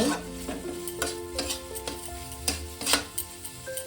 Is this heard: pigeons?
no